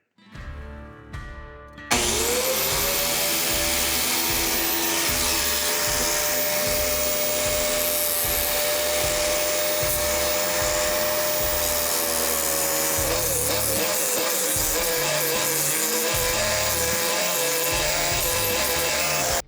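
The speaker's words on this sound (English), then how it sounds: "So I'm gonna go grab a piece of steel and we'll start grinding." An angle grinder cuts into a piece of steel, whining steadily and loud for the whole stretch after a brief start-up, the pitch wavering as the disc bites, with no talk.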